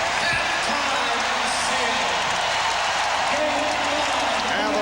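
Arena crowd at the 1996 NBA Finals Game 5 between the Bulls and SuperSonics roars steadily and loudly at halftime, a dense continuous wash of voices and noise.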